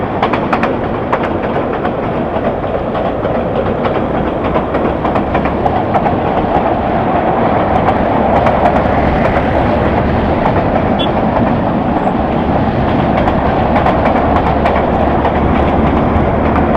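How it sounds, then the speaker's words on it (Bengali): A train rumbles past close by, a loud continuous roar with rhythmic clickety-clack of wheels on rails throughout. "ট্রেন আমাদের পাশেই আছে"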